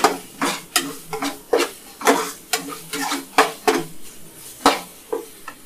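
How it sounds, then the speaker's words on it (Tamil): Chicken pepper fry being stirred in a pan over a low flame, with a regular series of sharp metal scrapes and clacks from the spoon, about two per second, close and alone. "லோ ஃப்ளேமில் வச்சு இதை நல்லா மிக்ஸ் பண்ணிகிட்டே இருக்கணும்."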